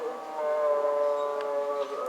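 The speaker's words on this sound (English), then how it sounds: "you can hear the two opposing mosques singing." Two mosques broadcast the call to prayer at the same time, long sustained sung tones overlapping into a steady wavering drone that carries from a distance, with no one talking nearby.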